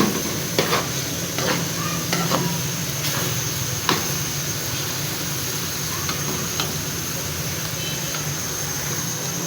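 Carrot halwa cooked with cream is stirred in a pan, with a continuous low sizzle broken by scattered scraping clicks from the spoon.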